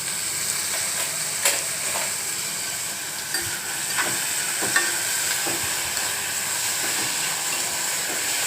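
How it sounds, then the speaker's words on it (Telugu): Onions frying in hot oil give a steady, close sizzling hiss throughout, with a few soft stirring clicks and scrapes over the continuous crackle. "నూనె కాగినాక ఉల్లిపాయలు వేసుకోవాలి."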